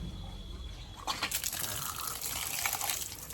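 Water running from a newly installed tap at a house, a soft gush that starts about a third of the way in and then flows steadily, fairly close by and alone.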